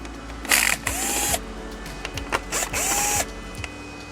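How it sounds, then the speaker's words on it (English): Small, fragile aluminum screws being backed out of a Sony XBR-65X900C 4K TV chassis with a powered driver, two short whirring bursts with rising tones and light clicks and rattles between them, close up. "Next step is going to be removing all of these little aluminum screws that are all around this chassis."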